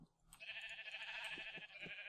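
Sheep in the Minecraft video game bleating, a sustained nasal bleat running throughout, fairly close and faint in level, with no talking.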